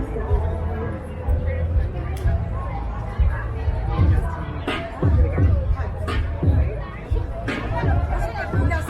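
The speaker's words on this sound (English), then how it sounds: "Guys walking backwards in a crowd of people." Crowd of people chattering at a busy Toronto event, an overlapping babble of many voices with a few closer speakers rising above a continuous hum of movement.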